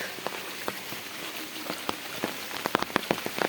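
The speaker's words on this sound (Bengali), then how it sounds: "এই প্রথম এত বৃষ্টি দিয়েছে।" Heavy rain falling in Sylhet, a steady wash of rain on surfaces with scattered louder drops hitting close by, alone without voices.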